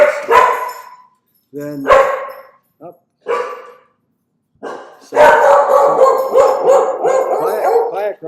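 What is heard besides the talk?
dog barking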